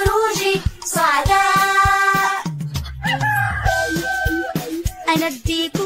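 Within an Arabic children's song about farm animals, a voice sings and imitates a rooster's crow in long, loud, tuneful cock-a-doodle-doo phrases over a bright musical backing.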